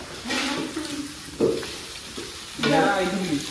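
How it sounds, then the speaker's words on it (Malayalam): Onions sizzle in a pan while being stirred, with scraping bursts of stirring and a steady frying crackle, close by and moderately loud. "ഇവിടെ സവാള വാട്ടിക്കൊണ്ടിരിക്കട്ടാ"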